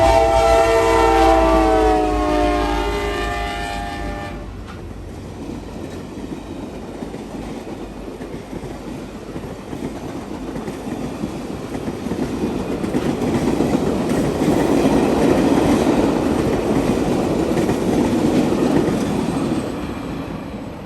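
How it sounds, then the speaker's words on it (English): A CSX business train in B&O paint scheme livery rolls southbound past the listener, a train horn sounding at first, then a steady rumble of passing cars swelling and fading over about twenty seconds. "Here we see the business train, painted in B&O paint scheme livery heading southbound."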